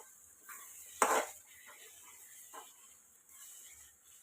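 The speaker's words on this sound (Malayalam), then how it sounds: "ഇതെല്ലാം കൂടെ നന്നായി ഒന്ന് ഇളക്കി കൊടുക്കാം." A spoon stirs a Kerala-style nadan chicken roast in a pot: one sharp metallic clank and scrape early on, then a few softer, quieter scrapes against the pot.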